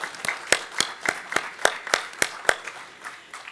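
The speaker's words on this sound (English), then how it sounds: "Let's have a round of applause for all of our sponsors." At an engineering conference, the audience applauds the sponsors with faint, evenly spaced claps that keep a steady rhythm for a few seconds, with no talking.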